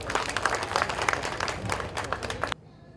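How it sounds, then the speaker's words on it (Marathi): An audience at an agricultural workshop and national agri exhibition hall claps loudly and steadily to welcome a speaker, dense applause filling the room before stopping abruptly near the end. "आपण टाळ्या वाजवून त्यांचे स्वागत करूया"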